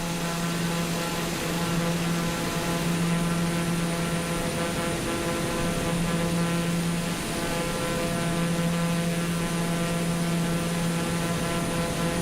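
A TBM-930 turboprop in Microsoft Flight Simulator 2020, cruising below 7,000 feet, gives a steady propeller and turbine drone with a constant tonal hum throughout.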